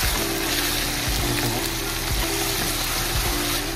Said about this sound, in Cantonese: 落埋啲雞煲醬，炒勻佢。